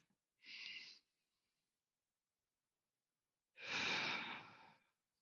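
Two deep, slow breaths during a tantra-hatha yoga class: a short airy inhale, a few seconds of silence, then a longer, fuller exhale, close and quiet with no voices.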